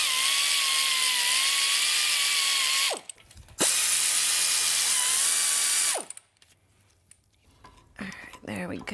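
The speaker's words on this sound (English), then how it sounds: "I'm going to take the caliper off separately" Powered tool loosening the bolts of a large brake caliper during a full-float axle seal repair, heard as two steady, loud whirring runs of about three seconds each with a short break between, followed by quieter handling noise.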